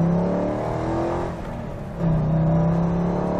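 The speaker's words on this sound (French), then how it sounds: "gros V8 américain, ça chante bien, échappement titane hein, d'origine." A 2002 Corvette C5 Z06 with a 405 hp V8 and factory titanium exhaust, heard from inside as it accelerates hard with a rising growl, dips briefly during a shift, then pulls again, loud and close.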